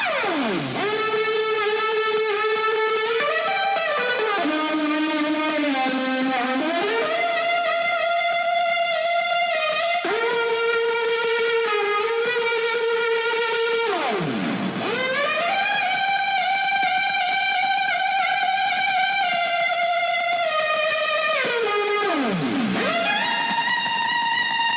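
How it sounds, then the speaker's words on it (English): Synthesized lead guitar solo programmed with FM8 and Sylenth for a Mat Zo track, sustained bending and sliding melodic lines with deep pitch dives, bright and loud throughout with no talking. "to program this guitar solo just to get it right and feeling like a real guitar."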